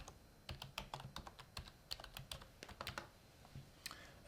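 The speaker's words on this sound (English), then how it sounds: "If I just type in my name," Someone types a name on a computer keyboard, producing a quick burst of sharp, close key clicks in uneven rhythm that taper off, with a few final taps, quiet and without speech.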